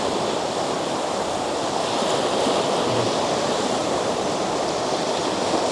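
Wind-driven waves roll in on Loch Ness, an unbroken rushing wash of water at moderate level, steady throughout with no speech.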